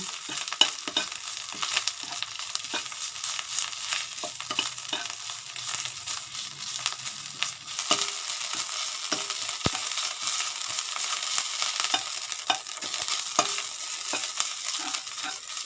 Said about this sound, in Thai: เติมน้ำมันลงไปนิดนึงนะคะ เราจะผัดน้ำพริกแกงให้หอม ใส่น้ำพริกแกงแดงนะคะ